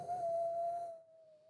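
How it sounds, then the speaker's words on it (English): A single sustained whistle holds one steady pitch for over a second, clear and fairly close, with faint background noise that fades away as the tone trails off. "That was a nice whistle."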